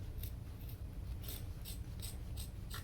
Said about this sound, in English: we're going to cut the excess here